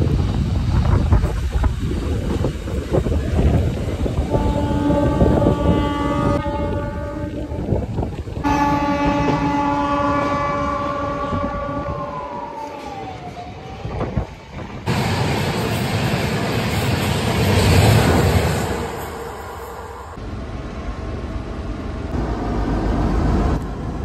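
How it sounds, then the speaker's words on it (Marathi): A train passes through Ahilyanagar railway station in Maharashtra, a loud broadband rumble with sustained horn-like tones midway, then roaring wheel and wind noise as it goes by, without speech. "ही एक गाडी आणि ह्याच्या आधी एक गेलेली फास्ट गाडी"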